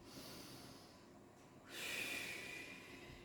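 A long breath drawn in through the nose during a morning breathing and recentering exercise, a soft airy intake that swells midway and fades, close and alone with no talking.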